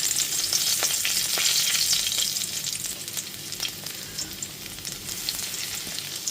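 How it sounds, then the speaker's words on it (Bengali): Nigella seeds and chopped garlic fry in the oil left over from frying pabda fish, giving a loud, close, steady sizzling hiss with scattered small pops and stirring, with no voices. "এবার ওই একই তেলের মধ্যে ফোড়নে দিয়ে দেবো 1 টিস্পুন কালো জিরে আর 1 টেবিল চামচ রসুন কুচি"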